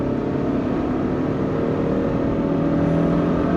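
A Peugeot 405 Mi16 engine revs up toward 5,000 RPM, a continuous loud, strained drone that builds steadily in pitch and intensity, heard alone from inside the car.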